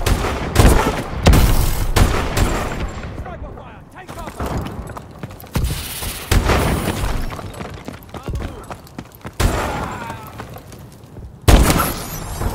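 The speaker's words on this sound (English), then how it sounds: "Sniper fire." Gunfire in a video game, with repeated loud sharp shots and bursts scattered over steady battle noise, while voices talk throughout.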